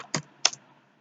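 Two quick, crisp keystrokes on a computer keyboard, close and quiet, spaced roughly a third of a second apart, followed by silence.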